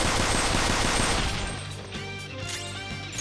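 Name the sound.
gunfire in the video game Persona 5 Royal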